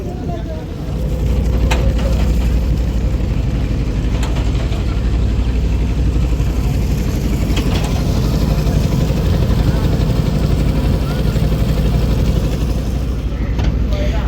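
Steady engine drone of the passenger launch MV Sanchita 1 underway after leaving Sreepur on a river trip from Bhola to Barishal, a constant low rumble with mechanical rattle filling the whole stretch, loud and close.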